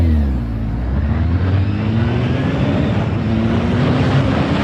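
A Tesla Model S Plaid taxi accelerates hard from a standing start, a loud steady electric whine and road rumble that rises slowly in pitch, with no voices.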